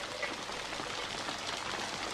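Rain falls steadily in a movie scene, a soft, even patter that continues without pause and without voices.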